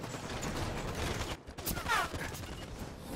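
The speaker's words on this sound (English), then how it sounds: "Tower's under fire" Gunfire around a tower during a Halo 5 Big Team Battle match: bursts of rapid shots and mechanical clatter in a busy, dense mix, with a brief lull midway before the firing picks up again.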